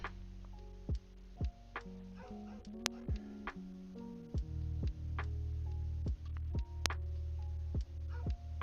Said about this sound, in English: Dogs love to bark right by the window.